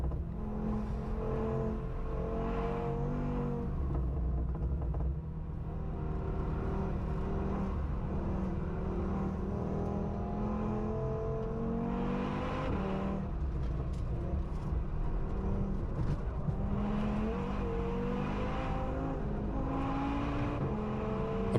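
A small Audi fitted with a big engine races on the Nürburgring, its engine droning and revving steadily from inside the car as it overtakes traffic, with shifting pitch and no talk.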